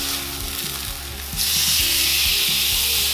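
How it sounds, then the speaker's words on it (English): A steak sizzles in a hot pan just after being flipped, a loud, steady broadband hiss that grows stronger midway, heard up close with faint low kitchen rumble underneath and no talking. "you want to hear that sizzle again"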